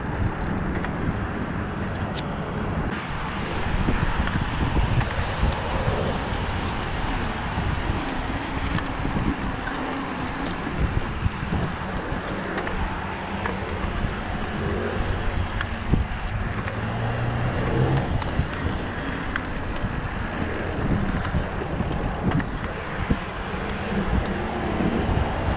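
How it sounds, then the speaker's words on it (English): A mountain bike's freewheeling hub and tires roll over a dirt trail, a steady, dense rush with wind buffeting the microphone throughout. "Love that sound of that hub. The wheels on the dirt."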